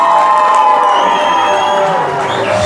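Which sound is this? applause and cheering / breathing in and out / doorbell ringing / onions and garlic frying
applause and cheering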